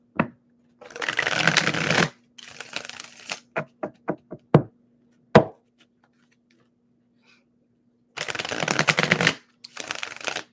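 Tarot cards are shuffled in several brisk riffling bursts, with a run of sharp taps between them as the deck is squared, then more shuffling.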